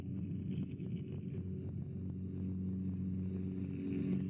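Small aircraft engine run up to full power, a loud, steady low drone with wind rush over it, continuous throughout.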